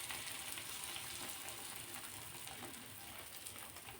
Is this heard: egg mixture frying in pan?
yes